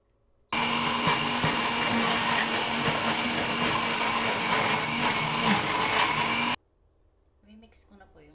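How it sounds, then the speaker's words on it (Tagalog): A kitchen blender whirs steadily for about six seconds while blending kimchi sauce with chili, a loud, even motor hum that starts and stops abruptly, followed by faint clinks. "tapos gagawa ko na, magbe-blend ako ng sauce"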